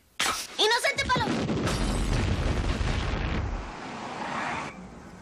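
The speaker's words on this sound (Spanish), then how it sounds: "Parece que hubo una explosión en la casa de los Simpson." A cartoon explosion at the Simpsons' house bursts in loudly, a crashing, shattering blast that rumbles on for several seconds before fading into a softer hiss.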